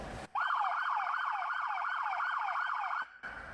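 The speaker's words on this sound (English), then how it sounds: "on the tone button for the siren controller, we have the phaser tone combined with the yelp" A 2017 Ford Police Interceptor Utility K-9's SoundOff Signal siren controller plays a phaser tone combined with yelp: loud, close, rapidly repeating rising-and-falling sweeps about twice a second, heard alone without talk.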